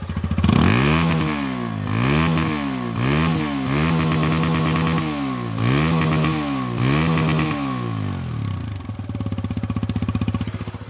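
A 2022 TVS Apache RTR 160 2V motorcycle engine is revved repeatedly, rising and falling in a series of close, loud throttle blips over a steady mechanical idle, with no talking.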